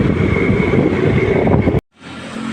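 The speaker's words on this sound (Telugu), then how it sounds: "చూడండి, బైక్ మీద పోతున్నాం." Steady rushing wind buffeting the microphone while riding a motorbike, loud and continuous, then a sudden brief dropout before the roar resumes more quietly.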